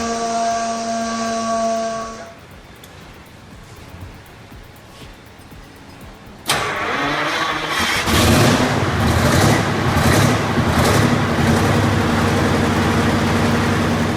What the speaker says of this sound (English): That deep, guttural roar of 29 liters of two-stroke power